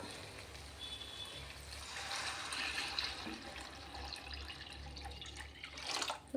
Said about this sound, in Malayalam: ആ വെള്ളം നമുക്ക് ഇതിലോട്ട് ഒഴിക്കാം